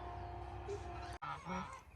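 Geese honk in a farmyard where chickens are also kept, a steady layered chorus of calls heard from a moderate distance with a constant background hum, and no speech.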